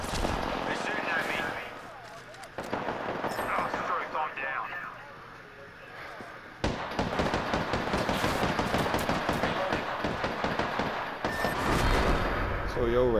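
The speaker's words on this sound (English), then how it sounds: "They're shooting at me." Video game gunfire: bursts of shots crackle through the clip at fairly close range, with more rapid firing in the second half, under ongoing talk from players.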